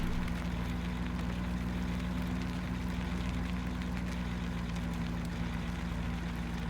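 A Land Rover engine idles in Farming Simulator 17, a steady, unbroken mechanical drone with a low hum, heard alone without talk.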